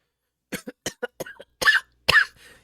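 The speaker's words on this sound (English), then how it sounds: "you can hear coughing coming from the opposite side of you" A series of coughs, several short harsh bursts followed by two longer, rougher hacking coughs, close and fairly loud with no talking.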